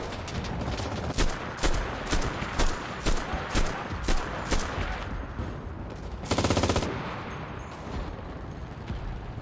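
Gunfire in the video game Enlisted: a string of evenly spaced, loud single shots, then a rapid burst, all over dense battlefield noise.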